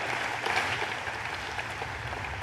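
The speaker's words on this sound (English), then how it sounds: "please give a round of applause to these guys" A room full of people applauds at a government event, a dense and even patter of clapping that holds steady for a couple of seconds without speech.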